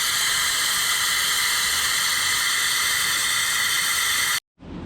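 A brake bleeder screw cracked open on a Porsche 914 during vacuum bleeding lets out a steady, loud broadband hiss that runs unbroken for several seconds, then stops abruptly before a fainter hiss resumes.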